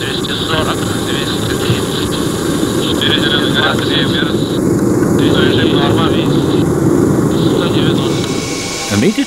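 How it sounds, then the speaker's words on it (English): Loud, steady roar of an Antonov 124 cargo jet during its landing approach, heard from inside the cockpit, with dense low engine and airflow noise sustained throughout and a faint thump near the end. "We've received clearance to land."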